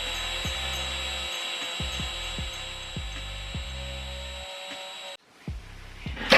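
A power drill drilling into an apartment wall whirs in steady bursts with a high whine, stopping and starting several times with short pauses, close by, then goes quiet.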